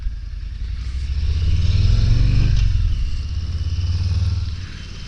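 A 2023 Harley-Davidson Low Rider S with the 117 engine rumbles with a deep, steady low throb while riding, swelling louder in the middle and easing off again, with wind noise over it.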